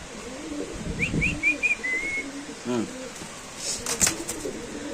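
Grizzle racing pigeons, three pairs in a loft for sale, give soft low coos alongside a short rising whistle-like call, with brief rustles and someone talking nearby.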